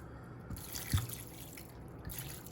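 Cold tap water drips and splashes over cut steak at a kitchen sink, a few soft irregular drips and trickles, close and fairly quiet with no talking.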